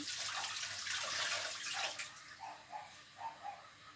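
Eggplant being rinsed under a running kitchen tap, a soft steady splash of water that gives way to a few quiet, separate drips and splashes near the end, close and faint with no talking.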